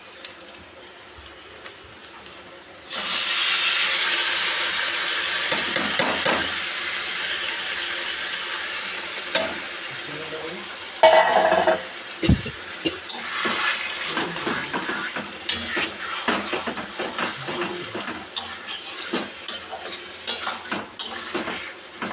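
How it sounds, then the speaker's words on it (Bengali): Bone-in meat sizzles steadily in a pan with fried onions and whole garam masala, a loud rain-like hiss starting after a quiet opening, with frequent metal spatula scrapes and clinks against the pot; no one speaks. "মাংস কষা হচ্ছে, দেখতে থাকো ভিডিওটি।"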